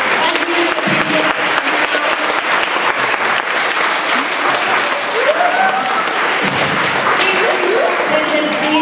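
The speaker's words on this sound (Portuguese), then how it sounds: "Uma salva de palmas aqui para as meninas que aprenderam." Audience applause at a senior academy's Passion of Christ performance, steady loud clapping from a crowd that fills the whole stretch without pause.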